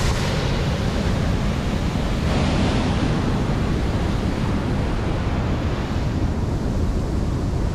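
Water rushes steadily through a small hydroelectric dam on a river, a dense, continuous roar like heavy surf that stays loud and even from start to finish with no voices.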